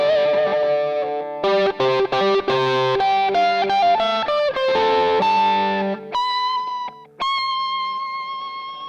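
Electric guitar played through the underdog drive side of a Wampler Paisley Deluxe Drive pedal, a country-style lead of quick overdriven picked notes and bends that ends on a few ringing sustained notes, loud and alone.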